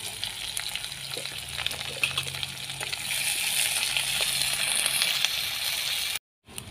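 Onions frying in oil with cumin and bay leaf for a Santhali-style dish give a steady, close sizzle with faint crackles and light stirring, growing slightly louder before cutting off abruptly.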